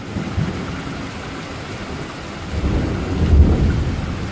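Thunder from a severe thunderstorm in Newburg, Pennsylvania rolls low and deep over steady rain, building into a louder, closer rumble toward the end.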